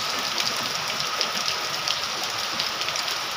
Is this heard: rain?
yes